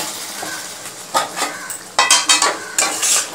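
Jackfruit and potato sautéed in a pan with hot water added, a soft sizzle under several sharp scraping strokes of a spoon against the pan, close and without voices.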